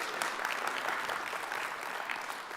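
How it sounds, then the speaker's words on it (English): Applause from a Liberal Democrat Spring Conference audience, a dense, steady roll of many hands clapping at moderate loudness throughout, with no talk over it. "I think we deserve to clap that."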